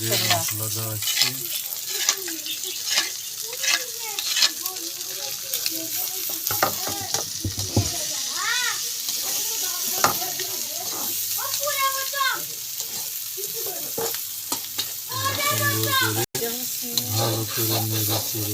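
Spices sizzle and fry in a pan while being stirred, giving a continuous close hiss with scraping strokes; a voice talks intermittently over the cooking.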